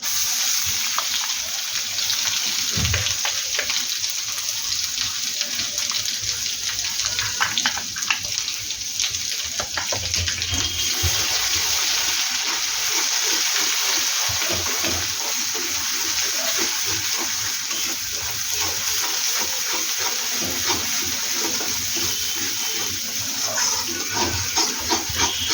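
Steady, dense sizzling of roasted black masala frying in a pan over medium gas, a continuous close hiss with no pauses and no voices.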